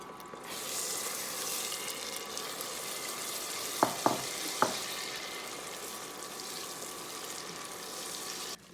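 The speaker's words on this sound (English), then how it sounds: "So I added the butter walnut into the saucepan and stir until coated evenly." Honey-butter coated walnuts are stirred in a saucepan for honey walnut shrimp, a soft continuous sizzle with three sharp clinks of the utensil against the pan in the middle; no talking.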